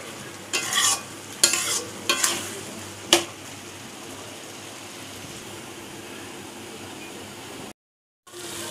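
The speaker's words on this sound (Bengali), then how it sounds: "তো এটা ঢেকে ঢেকেই কষাবো" Shrimp masala sautéing in a pan on an Indian stove, with several brisk stirring and scraping bursts early on, then a steady soft sizzle that continues alone to a brief dropout at the end.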